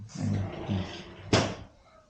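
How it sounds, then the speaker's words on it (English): A door is shut in a room during a talk: one solid thud near the end, following speech and faint room noise. "you want me to shut the door?"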